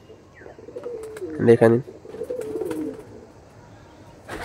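Red-headed Andhra pigeons coo in a short rumbling burst, close by, with someone talking over and around the calls and another brief call following.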